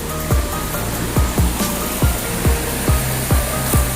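Two streams from the Ta Lot Yai and Ta Lot Noi waterfalls meet at a campsite in Chaloem Rattanakosin National Park, making a steady rushing wash. Regular soft low thumps recur about every half second.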